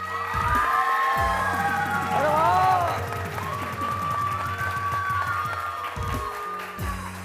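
A studio audience at a morning TV show cheers and claps, loud crowd shouts and whoops swelling over the first few seconds and then easing off, with a voice speaking and music underneath.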